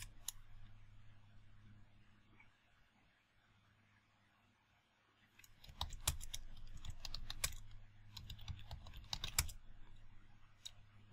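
Keys clatter on a computer keyboard while a command is entered in a Linux terminal, with a quiet lull first and then a quick burst of close, sharp clicks and taps over a faint background hum.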